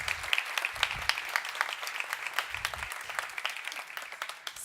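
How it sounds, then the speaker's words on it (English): An audience claps for a speaker at a talk on privacy, dense and moderately close applause running throughout, with no voices over it. "Please, another round of applause for Anas."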